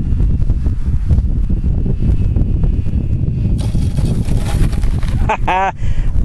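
Strong wind buffets a microphone outdoors at a model airfield, making a loud continuous low rumble that roars throughout. A brief voice cuts in near the end.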